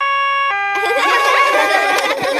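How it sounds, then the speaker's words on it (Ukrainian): An ambulance siren from the Peppa Pig cartoon starts with a short electronic tone, then blares into a loud wailing siren close by, sustained and piercing. "Ми вмикаємо сирену тільки в термінових випадках."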